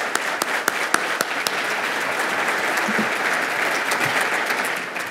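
An audience at Portsmouth, Virginia's State of the City event claps steadily, a dense, even wash of applause with a few sharper claps standing out near the start.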